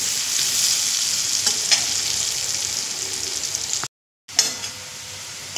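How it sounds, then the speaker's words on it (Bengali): Onion frying with turmeric in a pan sends up a loud, continuous close sizzle with a few stirring scrapes. It cuts out abruptly near the end and then resumes. "দিয়ে পেঁয়াজটা মাঝারি লাল করে ভেজে নেব"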